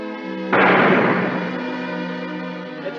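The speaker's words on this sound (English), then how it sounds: "Jack McCall shot him!" A single gunshot rings out in an old western television drama, a loud sharp blast followed by a long decaying echo over background music.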